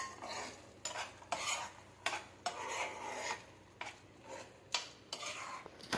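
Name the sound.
stirring fried paneer into palak gravy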